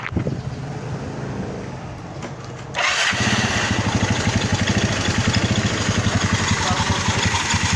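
A smoking Yamaha Mio scooter engine with a suspected crankshaft problem cranks and catches, then settles into a steady, slightly uneven idle close by.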